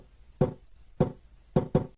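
A kick drum made from a pitched-down Wii Tennis sound with the high end turned down, four dull, thudding hits with the last two close together.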